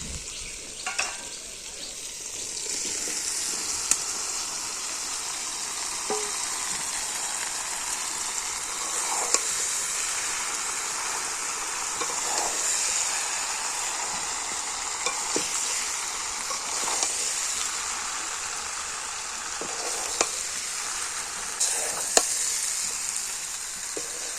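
Steady sizzling of young jackfruit and potato frying with spices in a pan, with occasional scraping and stirring clicks, close and continuous throughout.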